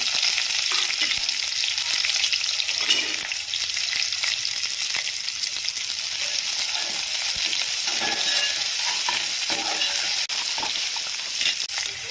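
Onion and slit green chillies fry in oil for a tamarind and taro curry, a steady close sizzle with occasional stirring scrapes and clicks.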